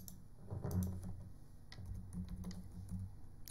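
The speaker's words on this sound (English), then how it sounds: "And then type in your login password." Soft keystrokes on a computer keyboard as a login password is typed, a quick irregular run of close, quiet clicks with no talk.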